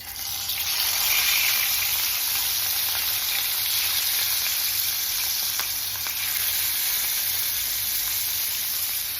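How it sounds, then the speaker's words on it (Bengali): Pieces of fish rubbed with salt and turmeric fry in hot oil, giving a steady, fairly loud hissing sizzle that continues without a break. "আর এই যে মাছে নুন হলুদ মাখানো হয়ে আছে এবার ভাজা করবো"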